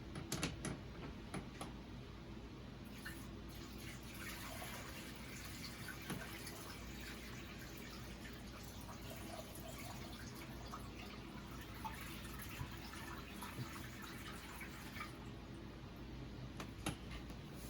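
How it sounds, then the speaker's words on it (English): Water trickles and splashes into a home fish tank as the last of it is poured in from a small container, a soft, continuous pouring with faint drips and bubbling, close but quiet. "I got the last little bit of water I'm gonna put in it"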